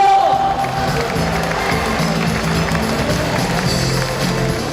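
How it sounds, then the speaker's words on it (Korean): Crowd noise at a Seoul party rally, a dense mix of clapping, cheering and scattered shouts that stays loud throughout, with music-like tones underneath. "큰 박수 부탁드립니다"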